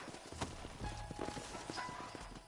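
Horse hooves clip-clop at a walk in Red Dead Redemption, a faint, uneven series of soft thuds over a quiet outdoor background.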